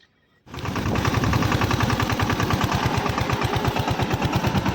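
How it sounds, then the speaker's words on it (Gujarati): After a brief quiet moment, a tractor engine starts up loud and close, chugging in a rapid, even rhythm that continues steadily. "જોવું તમે ભાઈ કેશવભાઈ ટ્રેક્ટર હાંકે છે."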